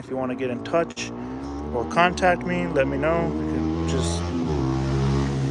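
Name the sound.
road traffic, cars passing by outside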